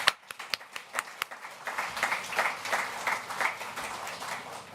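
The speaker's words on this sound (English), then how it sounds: "Can we give Dilshad a round of applause" Audience at a CMI Communities Live event in Birmingham applauds a panel facilitator, starting with a few scattered claps that build into steady, moderately loud clapping from a room full of people.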